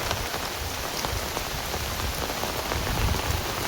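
Heavy village rain pours in a dense, steady hiss of drops drumming on surfaces, close and unbroken throughout.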